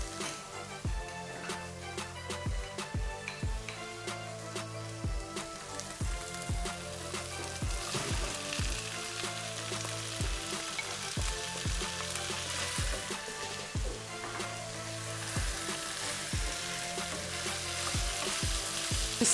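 Potatoes and carrots fry in a pan with seasoning and salt, a steady close sizzle broken by repeated scraping stirs at a fairly regular rhythm.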